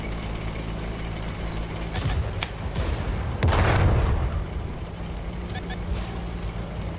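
Heavy tank gun blasts in World of Tanks on console, a sharp report near the two-second mark and a louder booming shot around three and a half seconds, over a constant low engine rumble.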